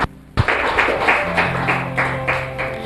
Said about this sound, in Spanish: Denle un aplauso grande a Jesús